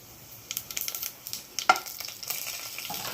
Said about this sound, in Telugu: ఇప్పుడు పోపు వేసేసుకుంటున్నానండి.